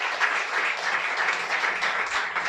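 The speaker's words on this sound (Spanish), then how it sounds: "Dale fuerte aplauso al Señor." Church congregation applauding during a sermon, a dense, steady wash of many hands clapping together without a break.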